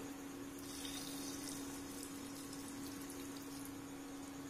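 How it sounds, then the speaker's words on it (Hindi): Milk poured into a mixer grinder jar while making rice phirni, a continuous steady liquid flow with a constant low hum, close and unbroken, with no voices. "अब मिक्सी के जार में मैं दूध ऐड कर दे रही हूँ"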